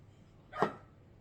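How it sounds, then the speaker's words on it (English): A puppy gives a single short, faint bark, heard at a distance against a quiet room. "I do apologize about the dogs. We got puppies and they're wanting in this room and I'm trying to do a video."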